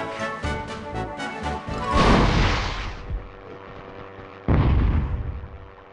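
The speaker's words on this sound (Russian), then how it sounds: "вот это выстрел" A heavy gunshot in the video game Hogs of War booms loudly, followed by a rumbling blast, then a second loud boom a few seconds later.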